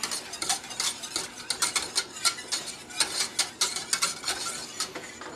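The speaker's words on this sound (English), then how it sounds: "Now I just want to make that get completely mixed with the whisk" A whisk stirs creamy sauce for scalloped potatoes in a pan, producing rapid, rhythmic scraping and clicking strokes close up, steady throughout with no voices.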